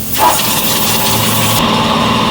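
A small engine, just reassembled after its filter was cleaned and drained of old sludge, catches and runs with a loud, steady high-pitched drone close by.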